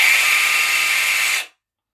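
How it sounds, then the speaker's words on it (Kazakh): Angle grinder attachment on a battery multi-tool spins up loud and steady with a bright whine, running continuously for about a second and a half before cutting off abruptly into silence. "Болгаркасы өте қолайлы екен."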